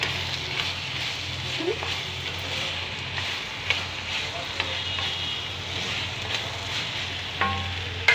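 Onion masala fries with turmeric for a sour ivy gourd (dondakaya) curry, giving a steady close sizzle broken by occasional scraping stirs of a spoon in the pan.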